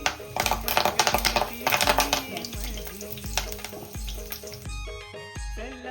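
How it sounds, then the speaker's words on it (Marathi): Cumin seeds crackle and sizzle in hot oil in a home kitchen pan, a busy frying hiss with stirring clatter and bursts of background music, fairly close and steady for several seconds. "तेल गरम झालंय त्याच्यात आता जिरा टाकते"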